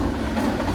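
A train passes close by beside a mustard field in rural Japan, a steady, dense rumble of rail noise holding at even loudness with no voices.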